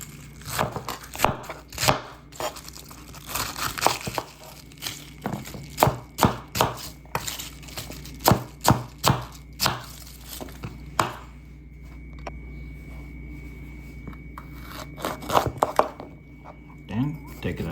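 A knife chops vegetables on a cutting board for yakiniku pork and vegetables, a brisk run of crisp, close knocks in uneven bursts with a brief pause partway through, while people talk over it.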